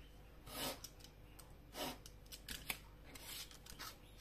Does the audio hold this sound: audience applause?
no